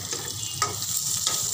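Pointed gourd (potol) slices frying in oil in a pan, a close, steady crackling sizzle with a few soft scraping stirs.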